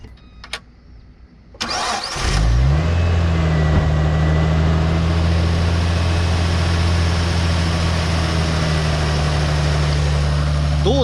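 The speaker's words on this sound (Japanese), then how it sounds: "34のセルモーターの方が明らかにエンジンかかるまでこうクランキング、こうセルが回る音が少ないですよね" A Nissan RB25DET engine fitted with the same starter motor as an R34 GT-R is cranked briefly by the starter, catches, and settles into a loud, steady idle that continues to the end.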